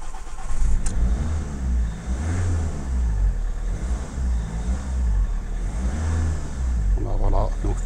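A Ford S-Max 2.0 TDCi 140 hp diesel engine cranking and catching, a low rumbling idle with uneven pulses that settles in, heard close up from the driver's seat after a filter change.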